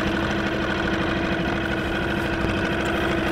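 Parsun F5 BMS five-horsepower four-stroke outboard boat motor running steadily, a close, even mechanical drone with a constant hum and no talking.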